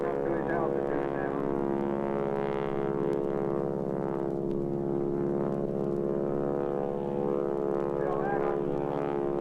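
A radial-engine stunt airplane, said to carry a Continental engine, drones steadily as it climbs at an air show, a loud sustained propeller hum running throughout while someone commentates over it.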